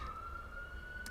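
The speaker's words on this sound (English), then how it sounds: "It's an ambulance." An ambulance siren holds a steady wailing tone throughout, faint and distant beneath a low background rumble, with no speech.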